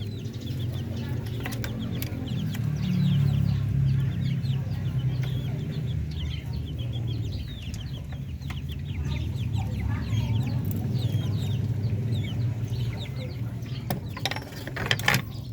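Chickens clucking steadily in a busy Filipino farmyard where they are fed corn and mixed feeds, with occasional rooster calls and scattered clicks over a low background rumble.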